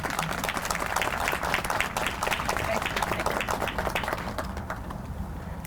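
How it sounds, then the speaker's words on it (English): An audience at a college ribbon-cutting ceremony applauds the Senate Majority Leader, a steady wash of many hands clapping throughout, moderately loud and slowly tapering toward the end. "give a nice round of applause to the Senate Majority Leader, Andrea Stewart Cousins"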